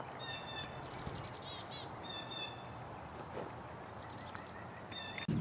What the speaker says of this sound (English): Listen to the birds out here.